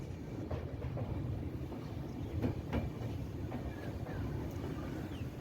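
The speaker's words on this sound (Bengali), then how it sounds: "ট্রেন মোটামুটি 1 ঘন্টা লেটে চলছিল আমাদের।" Inside a moving express train in North Bengal on a rainy morning: a continuous low rumble with faint rhythmic wheel clatter and light rattles throughout.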